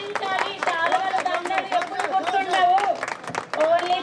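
Applause from an audience at an alumni reunion gathering, a sustained dense patter of many hands clapping close and loud throughout, with a voice speaking over the clapping.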